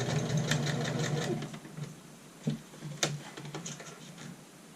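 A sewing machine back-stitches the tip of a skirt dart, a fast mechanical whirr that stops and gives way to a few faint clicks and taps at the machine.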